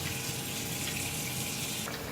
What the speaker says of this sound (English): I'm gonna run it through cold water, strain it again, run it back into cold water